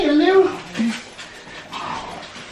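A dog whimpers and lets out a few short high yips, loudest at the start and then in softer bursts, close by indoors.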